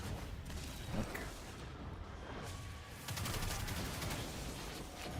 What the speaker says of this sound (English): I hit that wizard with a nade